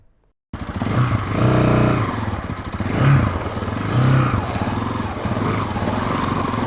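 Zonsen Carrera 250 motorcycle engine running steadily after a sudden start, a loud, close, continuous low rumble with two brief swells as the revs rise and fall.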